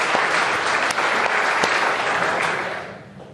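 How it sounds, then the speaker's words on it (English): An audience at a live podcast in Malvern Link breaks into a short burst of dense clapping, loud and close, fading toward the end. "Look at that, a round of applause."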